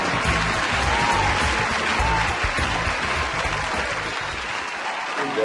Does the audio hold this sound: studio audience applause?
yes